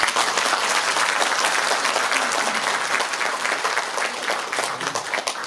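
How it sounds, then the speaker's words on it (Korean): Audience at a book concert for a local election candidate bursts into sustained applause, dense and even clapping from a large crowd in an indoor hall, close and loud for several seconds, slightly fading at the end. "여러분들 동의하시면 박수 한번 드립니다."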